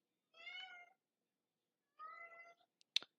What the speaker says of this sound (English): We got a meowing, everybody.